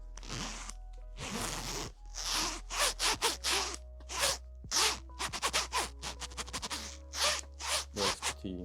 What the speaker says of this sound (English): let's get some good zipper ASMR here